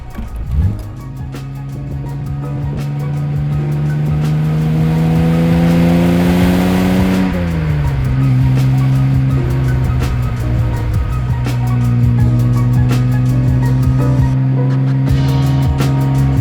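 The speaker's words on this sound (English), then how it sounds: "It just accelerates really smoothly and has that beautiful sound that the Jags were known for back at this period" A 1970 Jaguar XKE E-Type roadster's inline six pulls smoothly upward in pitch, eases briefly at a shift, then climbs again, loud and close, a steady sustained drone.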